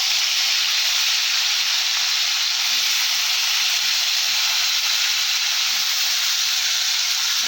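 Potatoes and black cumin seeds sizzling in hot oil, a steady, loud, hissing sizzle that holds evenly throughout with no talking.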